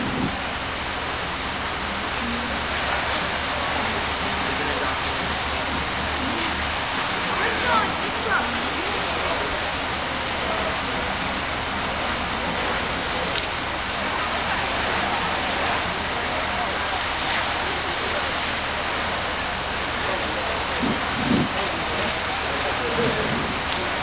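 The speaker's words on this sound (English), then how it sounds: "This concrete falls into itself." Self-consolidating concrete pours in a continuous, even rushing wash with no splashing, a dense steady hiss that holds at the same level from start to finish.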